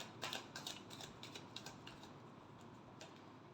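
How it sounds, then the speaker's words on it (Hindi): Tarot cards being shuffled by hand, a quiet run of rapid papery flicks and riffles in short bursts, loudest at the start and tapering off, close and soft with no talking. "Last shuffle."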